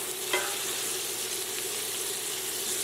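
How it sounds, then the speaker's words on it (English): Fish searing in a pan with butter and olive oil, a steady close sizzle and hiss throughout with one brief clink near the start. "Searing definitely will give an extra flavoring on your fish when you do it."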